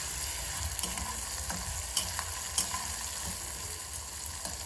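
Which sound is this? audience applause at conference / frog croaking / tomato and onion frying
tomato and onion frying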